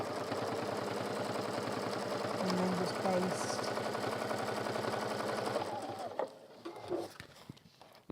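Sewing machine running long basting stitches, a rapid, even mechanical chatter up close that runs for about five seconds and then stops, leaving faint handling clicks.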